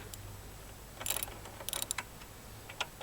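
6mm Allen head bolts being loosened from the grab rail of a Honda NC700X motorcycle: a few faint, sparse metallic clicks and short ratchet-like ticks close by over a quiet background, with no talking.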